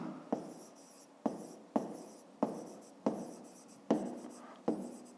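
A pen writing by hand during a fifth-grade math exercise, heard as seven distinct strokes that start sharply and fade, spaced roughly evenly and close to the microphone, with no talking.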